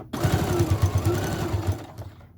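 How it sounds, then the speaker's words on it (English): A sewing machine runs a short burst while backstitching a zipper pouch seam, close and clear, with rapid rhythmic needle thumps that slow and stop after about two seconds. "Remember to backstitch."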